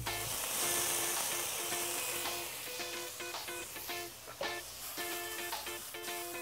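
Shallots and garlic sizzle steadily in a pan for a seafood pasta, a continuous close frying hiss with crackling pops and light clinks throughout.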